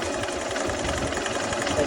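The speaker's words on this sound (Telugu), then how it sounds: "ఇంజన్ యొక్క నాయిస్ కూడా నేను అబ్జర్వ్ చేయండి" Bajaj Platina motorcycle engine running at idle, a continuous close mechanical rattle and hum with a rapid steady pulsing, fairly loud and unbroken throughout.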